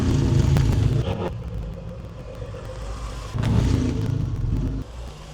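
A Porsche engine fires up and keeps running, a loud steady rumble with a strong surge of revving midway that eases back to a rougher idle.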